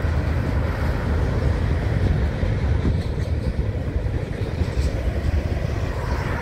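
A northbound manifest freight train led by an IC SD70 and a CN SD40-2W rolls past nearby, a steady, loud low rumble of engines and wheels on rail that fills the whole stretch without pause.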